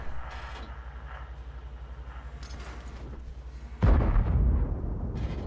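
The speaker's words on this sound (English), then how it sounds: "Another shot into the Conqueror, and another shot, another wasted shot." Cannon fire from a Skorp G tank destroyer in World of Tanks on the Murovanka map: distant muffled booms in the background, then one loud, close blast near the end with a rumbling tail.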